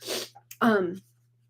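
A single close, loud sneeze with a sharp breathy intake and burst, followed by a brief voiced tail, then quiet room hum.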